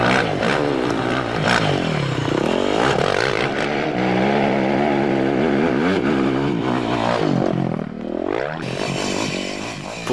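A Yamaha enduro motorcycle rides off-road, its engine rising and falling in loud revving sweeps as the throttle opens and closes, close and continuous for about ten seconds.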